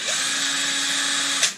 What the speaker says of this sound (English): I saw this trick on internet that you can put the valve in the drill